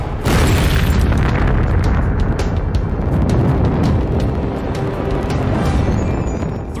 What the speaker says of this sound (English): liquid oxygen, liquid hydrogen, and refined kerosene explode in a cloud of smoke and flames.